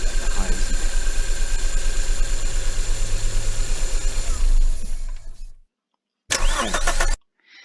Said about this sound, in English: now the car, which will probably still be quite a low pitch.